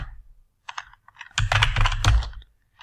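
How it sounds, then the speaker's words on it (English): Rapid clicking keystrokes on a computer keyboard as a search is entered on Etsy, a few scattered taps then a dense close burst of typing, alone without talk. "If I type something in Etsy search, watch what happens."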